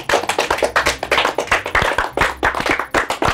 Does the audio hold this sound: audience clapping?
yes